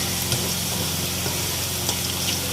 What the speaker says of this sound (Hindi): और इन सब चीज़ों को मैं 2 से 3 मिनट तक फ्राई करूँगी।